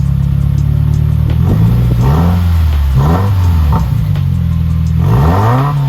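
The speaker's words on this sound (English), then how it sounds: "Little revs." Subaru WRX with its exhaust removed back to the cat-back section gets several short throttle blips over a loud, raw idle, each rev rising and falling in a rhythmic series close up.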